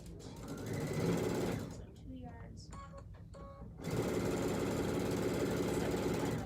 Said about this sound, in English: you're going to sew another 6-inch strip